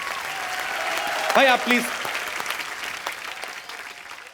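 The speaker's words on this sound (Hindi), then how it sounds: "एक बार जोरदार तालियां हो जाए उर्वशी और इंदर कुमार सर के लिए" Studio audience applause on a Hindi TV comedy show, steady clapping throughout, briefly under a man's short spoken line, then tapering off.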